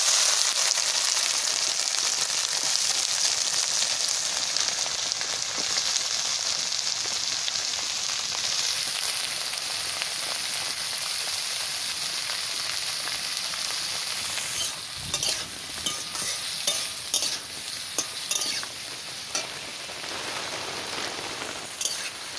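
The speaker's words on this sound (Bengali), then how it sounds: "সবজিটা ভাজা করে দেবো।" Vegetables for a tarkari fry in hot mustard oil with a steady, close sizzle that holds throughout. Toward the end it breaks into choppier bursts as the pan is stirred.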